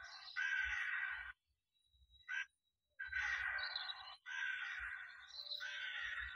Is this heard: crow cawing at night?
yes